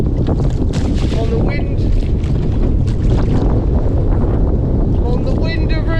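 Strong wind buffets the microphone while kayak fishing from a Hobie kayak off Skye, a loud, constant roar with water splashing beneath it and brief voice sounds mixed in.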